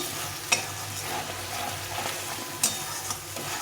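Cashew and melon seed paste frying in oil, stirred with a spatula: a steady soft sizzle with a couple of sharp scrapes against the pan, close and fairly quiet, no voices.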